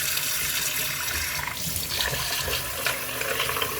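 Lukewarm tap water runs steadily from a faucet into a container of beads and stones set aside for cleaning, a continuous close splashing hiss with no voices.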